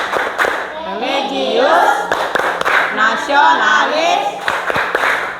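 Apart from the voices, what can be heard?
class rhythmic clapping chant Tepuk PPK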